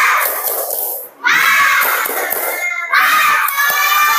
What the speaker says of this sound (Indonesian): Coba ini pada tepuk semangat dulu, tepuk semangat.